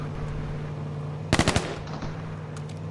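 A rapid burst of four or five automatic gunshots rings out in the battle royale game H1Z1, sharp and fairly close against a quiet engine hum, followed by faint distant pops.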